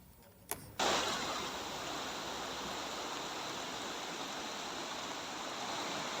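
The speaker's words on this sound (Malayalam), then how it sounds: "തിരുവനന്തപുരം പാലോട് മങ്കയത്ത് കൊച്ചാറ്റിലിൽ മലവെള്ളപ്പാച്ചിൽ." Flash-flood water roars through the Kochar forest stream at Mankayam, Palode, Thiruvananthapuram, after heavy rain deep in the forest. A steady, loud, broadband rush fills the clip, following a brief quieter moment at the start.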